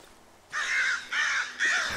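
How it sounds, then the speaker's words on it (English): Three loud, harsh crow caws in the horror video game Darkwood, in steady succession, each drawn out, over a quiet hiss of background ambience. "I just got scared by the crows."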